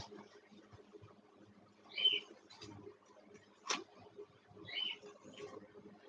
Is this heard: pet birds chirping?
yes